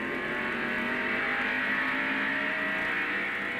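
A 1990 NASCAR stock car races at speed, heard from an in-car camera as a loud, continuous high engine whine with steady wind and road roar and no talk.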